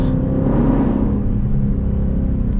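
A 2020 Dodge Charger SRT Hellcat Widebody engine roars at high revs close by while driving, a steady deep rumbling growl that holds throughout.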